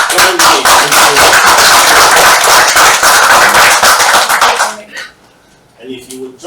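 Audience in an arena applauding after a political speech: loud, dense clapping from a large crowd, sustained for about five seconds, then cutting off abruptly as a voice begins speaking.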